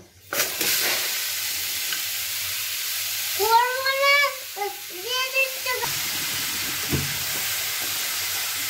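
Grated carrot sizzles steadily in oil in a wok while being stirred for carrot halwa, with a voice briefly heard partway through.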